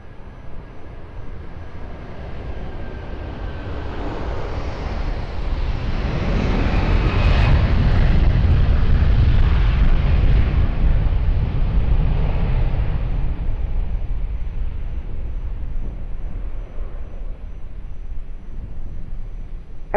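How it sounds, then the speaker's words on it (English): An airliner on its takeoff roll and climb-out from runway 20 at Lisbon Airport, a broad, steady jet engine roar that swells to a peak midway and then slowly fades, heard alone without talk. "Clear for takeoff, runway 20 at Transat 481."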